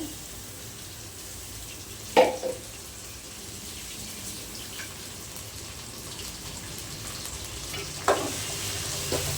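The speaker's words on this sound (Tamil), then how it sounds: "இப்போ இஞ்சி பூண்டு நல்லா அந்த பச்சை வாசனை போகிற வரைக்கும் வதங்கணும்." Ginger garlic paste sautéing with onions in oil for a Tamil fish curry, a continuous soft sizzle close by with two brief louder stirring scrapes, no voices.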